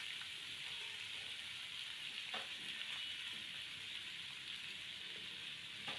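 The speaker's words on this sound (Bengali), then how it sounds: "সমস্ত ঝিঙে আলুটা একে একে তেলের মধ্যে ছেড়ে দিচ্ছি।" Ridge gourd and potato pieces sizzle in hot oil in a wok, a steady hissing fry held at a constant level with a few soft clinks, no voices.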